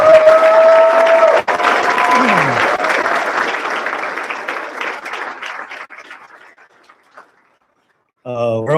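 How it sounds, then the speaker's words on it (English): A crowd at the Hawai'i Fire Department Recruit Class 54 graduation bursts into loud, sustained applause that slowly thins out and fades to quiet, then a voice begins speaking at the end. "I was wanting another round of applause for these guys."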